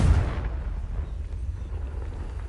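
A Confringo spell explosion in Hogwarts Legacy hits with a heavy, close boom at the start, then a deep rumbling roar and debris wash that slowly fades over a couple of seconds.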